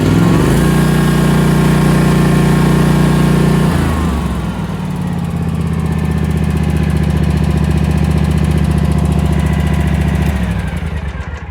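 A Scag ride-on mower with a Kawasaki engine runs steadily and loud, its even mid-pitched drone shifting to a slightly lower, rougher note about four seconds in and then holding alone to the end.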